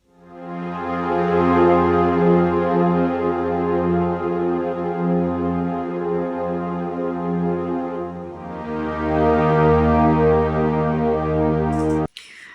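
A sustained string preset on the Vital synthesizer swells and holds, shifting to a new chord midway, then cuts off abruptly at the end.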